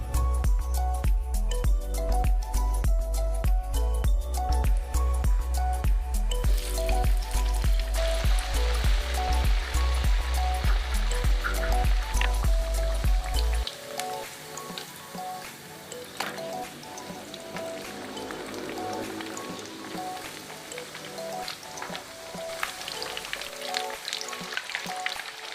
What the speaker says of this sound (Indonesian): Kemudian goreng ayam seperti biasanya, dibolak-balik sampai berwarna golden brown atau kuning keemasan.